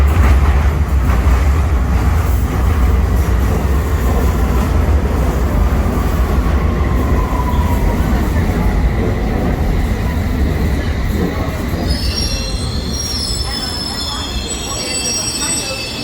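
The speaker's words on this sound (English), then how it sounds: "This is a District Line train to Upminster." A London Underground District Line train arrives at a platform with a loud continuous rumble, then high-pitched wheel squeals rise toward the end as it slows.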